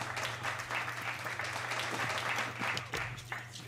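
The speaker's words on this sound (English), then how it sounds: "She always gets applause when you mention Ashley Smack." Audience applause at a live podcast show, a dense steady round of clapping from a crowd, fairly loud and sustained through the whole stretch with a low hum beneath.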